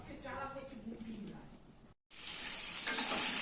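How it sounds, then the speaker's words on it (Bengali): Potatoes for a meat dish frying in hot oil in a pan, a soft sizzle under a speaking voice that cuts out briefly, then a louder, brighter hiss of sizzling as frying resumes. "মাংসের আলুটা ভেজে নিচ্ছি।"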